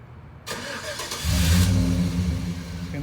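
A 2011 Chevy Silverado pickup fires up through a Viper remote start system: a sharp crank catches, then the engine swells into a loud, steady rumble that settles into a close idle, with no talking.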